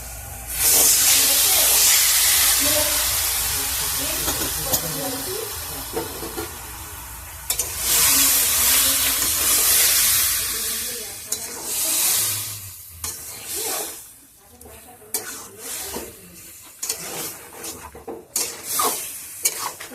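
Marinated chicken hits a hot dry pan with a loud, sustained sizzle and hiss, then gets stirred with scraping bursts as the sizzle eases and becomes patchier, with no one talking.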